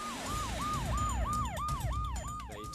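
An ambulance siren wails in a steady, repeating rise-and-fall cycle, loud and close, with a low engine rumble beneath and no voices.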